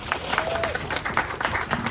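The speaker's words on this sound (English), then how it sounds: "So give Bonnie a round of applause." An audience gives a round of applause at a dedication event, steady overlapping hand claps at moderate level with a few louder bursts, and a faint voice briefly audible beneath.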